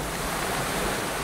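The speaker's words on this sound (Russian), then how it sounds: "Слышишь шум волн" Ocean surf rushes in a dense, steady roar of breaking waves, loud and close, with no voices.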